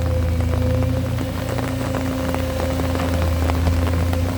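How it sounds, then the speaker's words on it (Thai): Steady rain falls on an excavator work site where a Sany SY200C and a Komatsu PC210-10MO are working, a dense continuous patter over a constant low engine drone, loud and unbroken throughout with no talking. "ตากฝนซะเลยไม่งั้นไม่เสร็จครับ"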